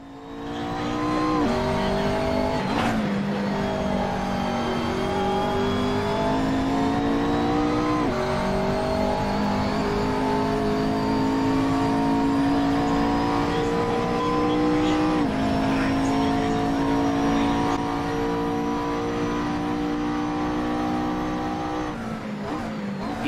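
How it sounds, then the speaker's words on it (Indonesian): McLaren 650S GT3 race car in a sim racing game at Zandvoort circuit in the Netherlands, its engine note rising and falling steadily through repeated gear shifts and revs, loud and continuous with no talk. "Ini adalah video tampak luar gue lagi nyetir McLaren 650S GT3 di track Zandvoort, Belanda."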